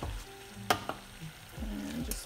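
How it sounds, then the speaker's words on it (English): A pot of oatmeal boils on the stove with a steady low bubbling and sizzle, broken by a few sharp clicks and knocks. "That is boiling."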